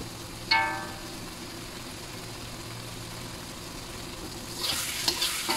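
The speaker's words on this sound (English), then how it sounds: "We are going to mix all of this and cook on high flame." Potato and chickpea masala stirred and fried on high flame, a steady sizzle under one sharp metallic clink of a spoon on the pan early on, then louder scraping stirs near the end.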